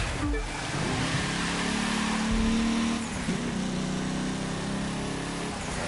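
A car in The Crew 2, said to handle like a truck, drives along with a steady engine drone and rising tonal hum, continuous and fairly loud with no talking.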